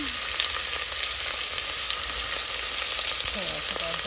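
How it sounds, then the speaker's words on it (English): Onion frying in hot oil with cumin in a pan, a dense steady sizzle filling the whole stretch with faint stirring scrapes near the end, close and without talk. "about 2 tablespoons of oil in the pan, 1 big spoon of cumin. Then you can add the onion."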